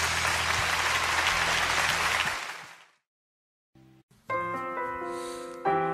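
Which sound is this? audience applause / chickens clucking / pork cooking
audience applause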